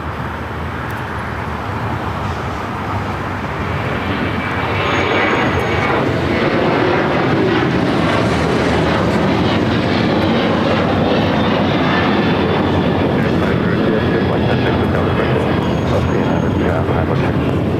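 An American Airlines jet takes off from runway 25 right at LAX, its engine roar swelling from a steady rumble into a louder, sustained broadband blast partway through.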